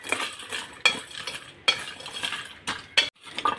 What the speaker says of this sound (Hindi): अब इन सबको हम अच्छे से मिक्स करेंगे।